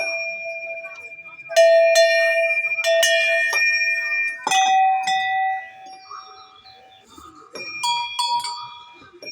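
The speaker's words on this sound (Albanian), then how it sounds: "Dhe këto janë zilet e këmborët." Old bells and cowbells in a museum in a tunnel in Gjirokastër ring out in several loud metallic strikes that leave long shimmering tails, with brief jangling between the hits and quieter clanks later.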